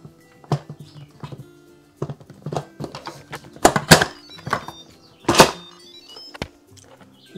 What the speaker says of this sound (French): Je vais replacer le couvercle.